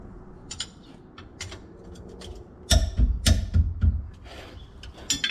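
Close metallic ratcheting and clicks from a wrench working on the 14mm bolts of a Hilux rear wheel hub, with sparse ticks at first and then a louder burst of rapid ratchet strokes.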